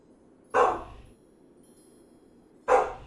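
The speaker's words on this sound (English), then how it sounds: "Don't know what the dog's barking at." A dog in the room barks twice, two sharp single barks about two seconds apart, fairly close and loud over a quiet background with faint electronic hum, no talking.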